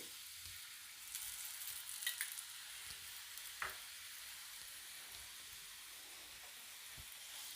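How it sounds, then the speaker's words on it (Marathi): A cabbage paratha frying in oil on a pan, giving a faint, steady hiss of sizzling with a few soft clicks, heard quietly and alone. "पुन्हा थोडंसं तेल सोडू म्हणजे खालची बाजू ही तेलात चांगली फ्राय होईल"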